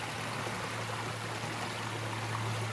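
A creek flows beside a trail in Stone Mountain State Park, North Carolina, giving a continuous, even rushing and burbling of water close by, with no voices.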